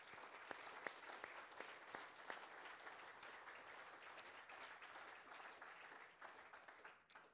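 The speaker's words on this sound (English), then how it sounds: "Let's give them a round of applause." A crowd applauds at a laboratory annex dedication ceremony, a dense, steady wash of clapping from many hands that holds evenly for several seconds, with a few sharper individual claps early on.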